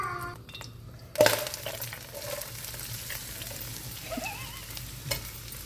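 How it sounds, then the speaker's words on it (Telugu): Onions frying in plenty of oil in a pan for a chicken fry, a steady close sizzle with stirring scrapes and a sharp clatter early on. "ఆనియన్స్ వేయించాలి"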